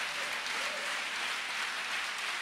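A church congregation applauding together, a dense, sustained wash of clapping at moderate distance with no break.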